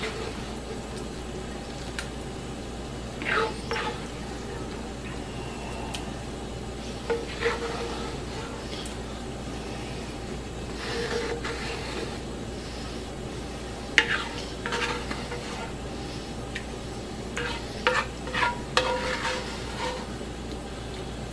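Puttanesca sauce is spooned out of a skillet: soft scrapes and light metallic clinks of a spoon against the pan come in scattered bursts over a low, steady background hum, quiet and close, with no talking.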